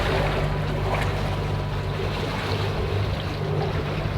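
Sailboat motoring through Arctic Norway waters toward Torsvåg on the island of Uløya on a sunny late-summer day: a steady low engine drone under a broad wash of wind and water, continuous and close.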